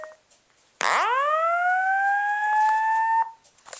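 Simplex 4903-9146 fire alarm sounding a single loud electronic whoop that sweeps upward and holds a steady tone for about two and a half seconds before cutting off, close and clear.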